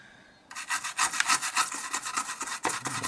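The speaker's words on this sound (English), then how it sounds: "This is my trusty manky brush." A worn brush scrubs the plastic shell of a 1986 Nintendo Game Boy DMG in rapid back-and-forth strokes, close and harsh, starting abruptly and continuing steadily with a brief pause near the end.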